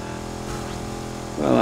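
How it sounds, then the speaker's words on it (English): A car engine in the racing game NFS Heat gives a steady, droning hum at moderate level that swells louder near the end. "nice engine sounds of this car"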